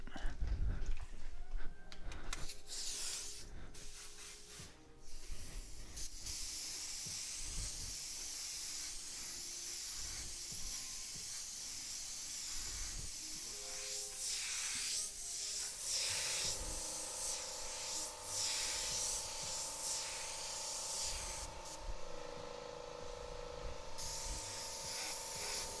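Airbrush spraying paint onto a T-shirt for a graffiti design gives soft bursts of airy hiss, some short and some held, close and fairly quiet, with brief pauses between passes.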